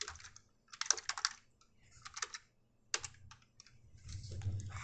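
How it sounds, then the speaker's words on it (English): Bursts of fast typing on a computer keyboard sound close and quiet, with short clusters of key clicks separated by brief pauses. "Oh man, my typing is all over the place today."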